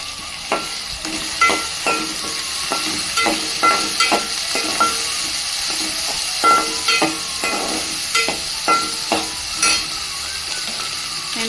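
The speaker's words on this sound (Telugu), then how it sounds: "ఇప్పుడు ఇందులో నేను ఈ మన షాప్లో దొరికే బఠానీ అనమాట ఉప్పు బఠానీ వేసుకుంటున్నా" Store-bought salted green peas fry and crackle in a pan while a spoon repeatedly scrapes and stirs them, sending a steady run of close, sharp clicks over a constant sizzle.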